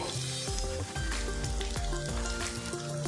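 Semolina chops sizzle and crackle steadily as they deep-fry in hot oil, with a few soft clinks and stirring noises as they are turned over, no voices.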